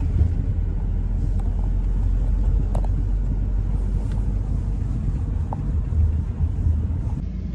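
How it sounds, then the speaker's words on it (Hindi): Steady low rumble of idling and crawling vehicles stuck in a heavy traffic jam on the road to Solang Valley, a continuous broadband drone with wind buffeting and a few faint horn-like tones, no speech. "बहुत ज़्यादा लग गया ट्रैफिक जाम।"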